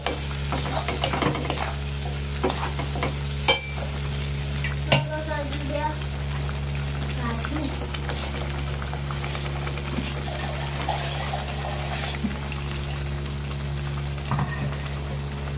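Masala paste for a mushroom masala gravy frying in a pan while being stirred, with a continuous low sizzle and intermittent scraping and clatter of the spoon against the pan.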